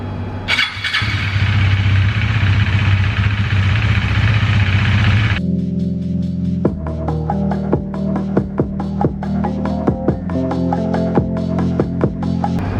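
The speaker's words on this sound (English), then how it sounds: "start the bike and just leave it like that. Don't race it, okay?" A motorcycle engine starts with a brief burst of cranking, then settles into a steady, throbbing idle left running unrevved to warm up, loud and close, with no voices.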